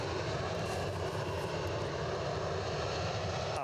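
An easyJet Boeing 737-800 taking off from Edinburgh Airport for Lanzarote, heard as a steady, fairly distant jet engine rumble with no voices over it.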